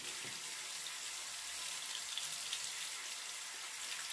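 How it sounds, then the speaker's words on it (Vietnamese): Clean tap water runs steadily from a faucet while a Lumispa facial cleansing device is rinsed under it, a continuous close hiss with no talking. "Rồi sau khi mà mình để dưới vòi nước sạch mình rửa nè cả nhà thấy không?"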